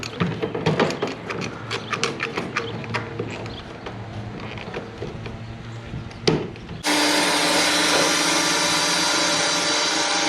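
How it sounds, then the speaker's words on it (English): A power drill boring mounting screw holes through a sailboat deck, rough grinding and scraping at first, then a sudden loud steady motor whine for the last few seconds, close up with no talk. "then drilled through from inside and from the deck"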